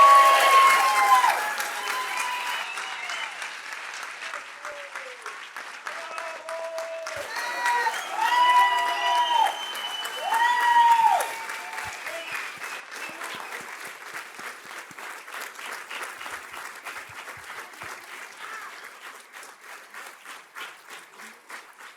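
Crowd at a council swearing-in ceremony applauding the newly sworn mayor, sustained clapping that swells and then tapers over about twenty seconds, with voices and a few cheers rising above it partway through.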